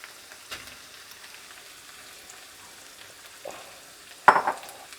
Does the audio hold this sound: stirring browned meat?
yes